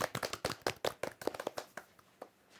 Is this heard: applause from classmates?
yes